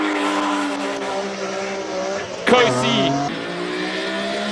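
BMW E46 race car at a hill climb, its engine roaring and revving near the listener, with a brief burst and sharp pitch shift as it passes and changes gear, while a commentator talks over it.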